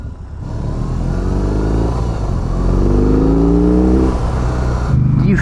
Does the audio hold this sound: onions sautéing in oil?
no